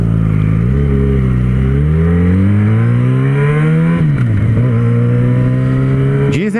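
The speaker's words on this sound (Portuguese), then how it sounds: "Dizem que é a 4 cilindros com o ronco mais lindo do mundo, né?" A Yamaha XJ6 four-cylinder motorcycle engine revs up close and loud, its smooth, high-pitched wail climbing and falling through several throttle blips, then a sharp final rise at the end.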